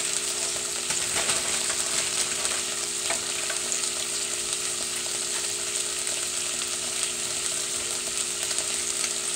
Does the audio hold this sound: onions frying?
yes